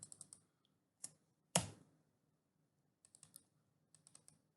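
Keyboard shortcut presses on a computer during drawing-software work: scattered clicks and short bursts of key taps, one louder thunk among them, close and quiet, with no talking.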